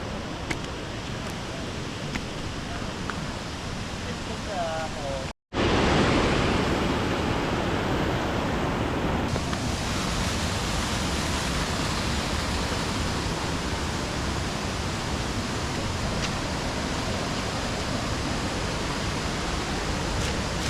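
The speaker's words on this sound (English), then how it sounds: "We've made it to the falls." A waterfall on Mindoro Island pours in a constant, dense, full roar, loud and close, steady throughout apart from one brief dropout, with no voices.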